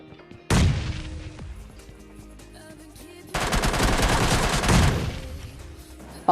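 Automatic rifle fire from an MK14 in a squad shooter video game comes in two loud sustained bursts, a short volley near the start and a longer one midway, with quiet game ambience between.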